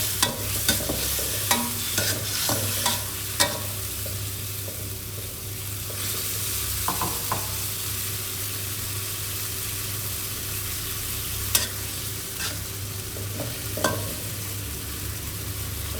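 Drunken noodle (pad kee mao) ingredients stir-frying in a hot pan, a loud, continuous sizzle with a low steady hum beneath and occasional sharp scrapes and knocks of the utensil.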